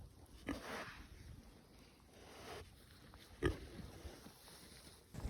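Pigs on a farm in fresh winter snow, giving faint, scattered grunts and snuffles at a distance amid quiet outdoor background.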